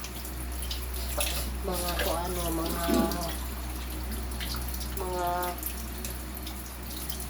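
Tap water runs steadily over sweet corn being wetted before the husks are stripped, a continuous splashing stream beneath someone speaking in Filipino.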